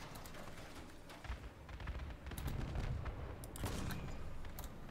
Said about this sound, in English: Ice guy is shooting.